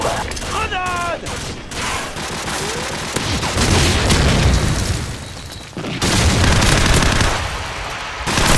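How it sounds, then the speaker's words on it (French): Call of Duty 4 multiplayer match on the map Ambush: booming grenade blasts and bursts of gunfire fill the scene, dense and loud, with game announcer voice lines over the battle. "Grenade."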